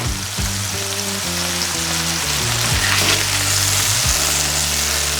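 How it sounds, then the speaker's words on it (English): Burgers fry on a Blackstone 22-inch E-Series electric griddle at 450 degrees with a loud, steady, close sizzle and spatter, while a low droning tone shifts pitch underneath. "Now I'm cooking at 450 so this is the first time doing burgers on here."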